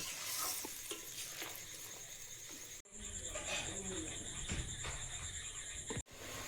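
Fish simmers in a kasundi mustard sauce, giving a steady bubbling and sizzling hiss with occasional stirring scrapes, close and continuous, with a voice faintly audible beneath.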